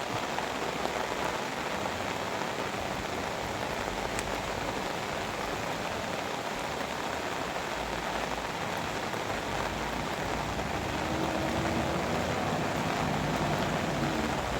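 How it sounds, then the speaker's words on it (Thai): Steady rain pours down on a surface, a continuous dense hiss of drops with no talking, holding even throughout. "ฝนฟ้าวันนี้นะครับฝนตก"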